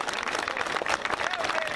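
Audience applause breaks out for a named guest at a Rapa Nui group's concert in Quellón, a dense wash of clapping hands with crowd noise that holds steady and fairly loud throughout.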